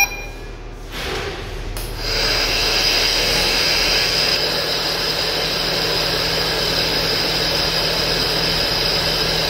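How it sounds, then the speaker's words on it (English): Turbine of a Puritan Bennett PB 560 ventilator running, a steady high whine and airy hiss close by that settles into a constant level after a brief shift near the start. "The turbine speed."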